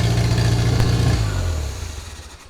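A canoe hot rod engine with its exhaust removed fires up at the turn of a key and settles into a loud, throaty idle close by, gradually fading.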